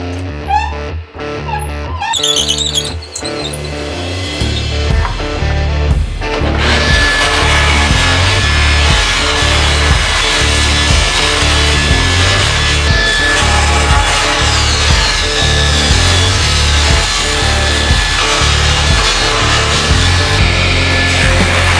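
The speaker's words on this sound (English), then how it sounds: "now we're going to cut the angle on the maple." Power saw cutting an angle into rough-milled maple for a segmented woodturned vase's accent ring, a loud, steady whine running continuously after a brief start, with no speech.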